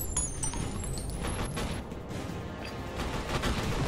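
Dense, continuous suppressive gunfire from the video game F.E.A.R. Perseus Mandate, a steady rattling fusillade of rapid shots at even loudness that fills the whole stretch with no pauses.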